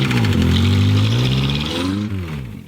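A freshly rebuilt Toyota LandCruiser engine runs loud and close after its first start, a rough harmonic drone that shifts in pitch as it settles, with no voices.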